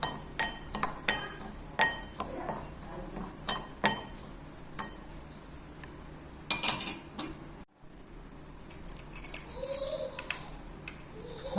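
Ingredients and spices for a sweet mango pickle are stirred in a bowl, giving a series of light clinks and taps of a spoon against the dish, irregular and fairly close, with quieter scraping between.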